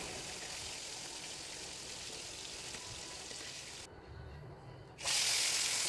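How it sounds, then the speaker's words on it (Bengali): Snakehead fish fry in oil with a constant broad hiss, which dips briefly and then surges louder near the end as more fish go into the pan. No one speaks. "এইভাবে সব কটা মাছ ভেজে নেব ভালো করে।"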